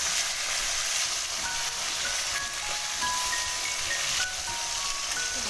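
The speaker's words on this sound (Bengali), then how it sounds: "খুব ভালো ভাজা হচ্ছে আর উল্টাতেও কোনো অসুবিধা নেই" Bata fish pieces frying in a pan with a dense, even hiss and crackle that runs loud throughout, with faint tonal squeaks over it and no talk.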